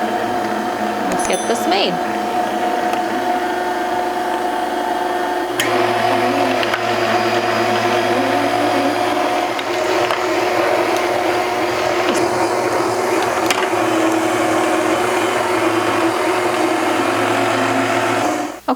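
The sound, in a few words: KitchenAid stand mixer running on medium-high, milling tomatoes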